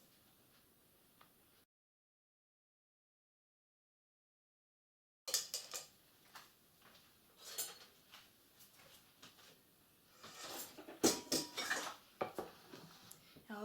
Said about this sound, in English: Now I'm going to spoon it on top of the pineapples.